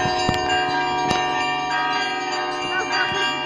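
Church bells ring at the Nikitsky monastery in Pereslavl-Zalessky, with sharp struck strikes over a dense, sustained metallic hum of overlapping tones.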